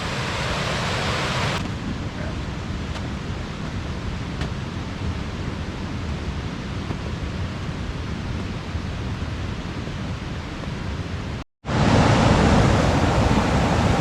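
A waterfall near Paradise on Mount Rainier rushes with a constant broadband roar, steady and strong throughout, briefly cut off near the end before returning louder; no one speaks.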